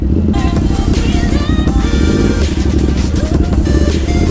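A Ducati SuperSport 950S motorcycle riding off-road, its engine a loud, steady rumble with rough clattering over uneven ground and no talk.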